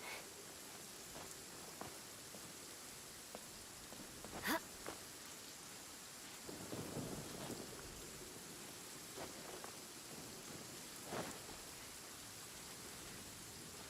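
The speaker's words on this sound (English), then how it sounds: "You sure you don't want to be out of the rain?" Rain falls in the video game Genshin Impact, a quiet, even wash of drops with a few soft thumps and a brief rumbling swell partway through, heard alone without speech.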